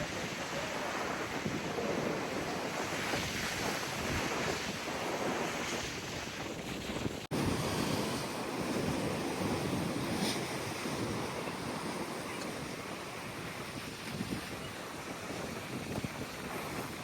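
Steady ocean surf around Vivekananda Rock Memorial, a continuous loud roar of waves breaking against rocks with heavy wind buffeting the microphone throughout.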